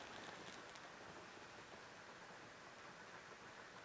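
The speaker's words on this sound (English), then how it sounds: "can you hear the rain?" Steady rain falling outside, a dense even hiss of drops on surfaces, soft and continuous throughout with no voices.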